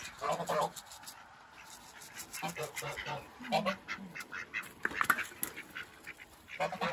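Khaki Campbell ducks quacking repeatedly at close range on a small North Carolina farm during morning chores, irregular short calls overlapping one another, with a person speaking nearby.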